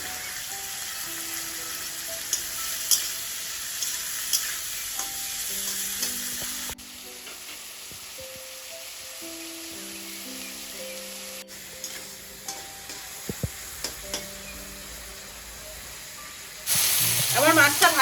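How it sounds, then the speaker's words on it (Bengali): Prawns frying with salt and turmeric sizzle steadily in a pan, with sharp stirring clinks and scrapes. A louder burst of sizzle comes near the end, and tonal background hums sit underneath. "এরকম হালকা করে মাছটা ভাজা করে নিয়েছি, কড়া করা যাবে না।"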